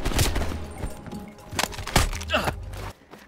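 Gunfire in Call of Duty Black Ops Cold War on PS5: several sharp, loud bursts and shots spread irregularly over a few seconds amid game sounds, with some voice in the mix.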